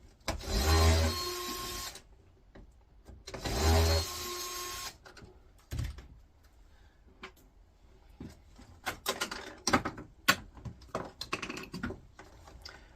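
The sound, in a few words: removing screws from a multifry electric cooker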